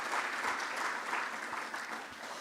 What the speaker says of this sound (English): I think he deserves another applause.